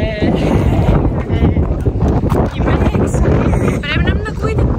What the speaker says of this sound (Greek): Φυσάει πολύ